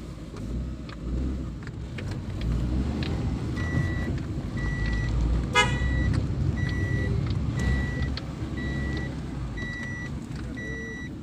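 Traffic on a national highway rumbles steadily, engine noise close and continuous, while a vehicle's repeating reversing beep chirps at regular intervals and a brief horn blast cuts through midway.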